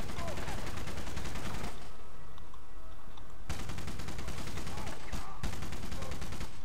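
Rapid automatic gunfire in the Rogue Warrior video game rattles loudly almost without pause, breaking off briefly twice before resuming as a dense, close burst of shots.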